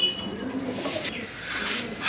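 Several American Fantail pigeons, kept with two squabs at a pigeon market, give soft low cooing calls that overlap against a busy background murmur.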